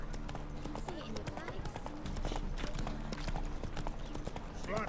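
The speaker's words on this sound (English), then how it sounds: "Run, Roach." A horse gallops in The Witcher video game, its rapid close hoofbeats drumming steadily over a low game soundscape, with a voice speaking over the hooves.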